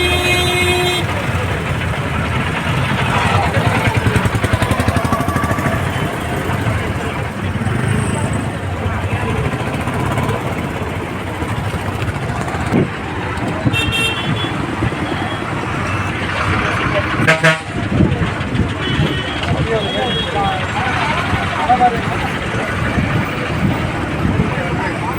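Busy road traffic slowed by damaged roads, with cars, trucks and buses rumbling steadily and occasional horn toots over a constant loud wash of engine noise and voices.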